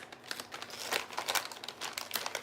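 Close, continuous crinkling of a small plastic cough drop wrapper being unwrapped, crackly and busy for a couple of seconds.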